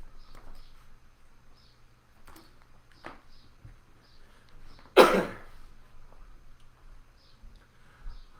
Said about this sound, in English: I'm having an allergy cough.